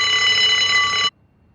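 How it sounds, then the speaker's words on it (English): A loud electronic hospital alarm in the video game Unheard blares as a steady, shrill multi-tone ring, then cuts off abruptly after about a second into near silence. "Is that the alarm?"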